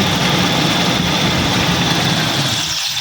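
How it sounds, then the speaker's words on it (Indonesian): A Toyota Kijang EFI engine runs with a loud, steady drone, then starts to die as the fuel pump jumper wire is cut, the low rumble thinning out at the very end. "otomatis mesinnya langsung mati karena kabel full pump yang jumperannya sudah terputus"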